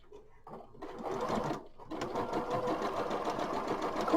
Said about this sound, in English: we're going to sew down this shorter edge.